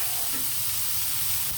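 Tomatoes, green chillies and coriander fry in a pan with a steady, close sizzle and hiss that runs continuously and alone.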